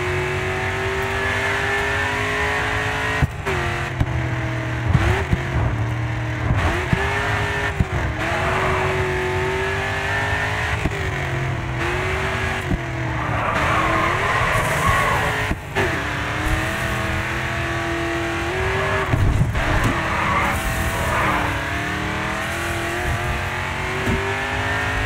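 A racing car drifts in the GRID video game, its engine roaring and revving hard throughout with shifting pitch and hints of tyre squeal, steady, loud and close with no talk.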